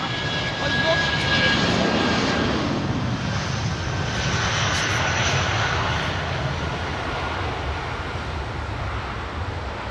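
Jet airliner engines roar from the 27R runway at Heathrow Airport, a loud, steady rumble that holds through the whole stretch with a slow swell early on.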